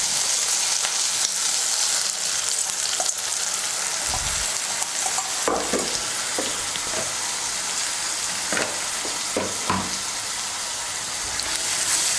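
Spice paste of coriander and chili powder fries in oil for a Bengali lata fish curry with potatoes, giving a loud continuous sizzle broken by repeated spoon scrapes against the pan.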